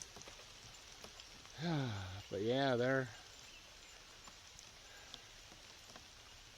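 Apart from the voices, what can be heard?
rain dripping in trees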